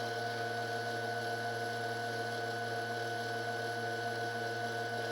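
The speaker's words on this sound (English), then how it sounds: "You can hear that thing running, that motor running in the background though." DM36D dynamotor running in the background, a steady faint electrical hum and whine with constant tonal lines, unchanging for the whole stretch.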